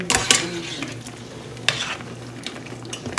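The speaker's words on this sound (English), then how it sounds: "I'm going to turn this up so it can be cooking. And then I'm going to let it just cook down with all this green beans and juices and stuff." Green beans with seasoning and juices cooking down in a pan give off a steady sizzle, broken by several sharp spoon-on-pan scrapes and clanks from stirring, close up and with no talking.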